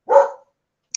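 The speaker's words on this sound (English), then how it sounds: "The dog's barking." A single loud bark from Cooper the dog rings out near at hand, followed after a pause by a brief faint high squeak.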